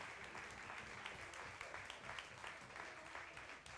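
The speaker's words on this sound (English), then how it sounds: "Just ride the applause to your chair." Audience applause at a poetry slam in a live venue, dense continuous clapping with scattered sharper claps, fairly distant and steady throughout.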